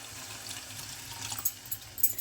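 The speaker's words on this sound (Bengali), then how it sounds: "এবারে জল দিচ্ছি।" Water pours into a pan of potato curry masala with a soft, continuous hiss and a few small splashes, close but fairly quiet, lasting about two seconds.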